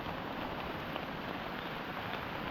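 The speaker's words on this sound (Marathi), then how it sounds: "पाऊस पण आला जोरात" Heavy rain pouring outdoors in the Konkan countryside, a dense steady hiss filling the whole stretch without pause, close and uniform with no voices.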